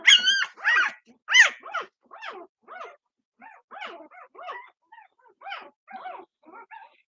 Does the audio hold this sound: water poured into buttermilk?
no